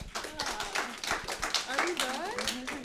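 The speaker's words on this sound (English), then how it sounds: "I really wanted to applaud you" At a 2024 policy lab session on digital government services, an audience claps for the presenters, with scattered, uneven hand claps mixed beneath people talking nearby.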